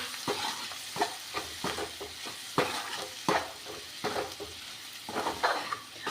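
Chilli, turmeric and other spices being stirred in a pan, with a soft sizzle under repeated scraping strokes of a spoon against the metal, close and fairly quiet, no talking.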